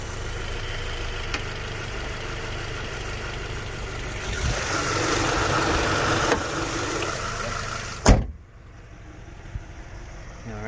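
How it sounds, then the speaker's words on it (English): A Subaru BRZ hood slams shut with a single sharp thud near the end, following several seconds of steady engine idle and ambient noise, after which the scene goes much quieter. "Mark's gonna close this hood real quick."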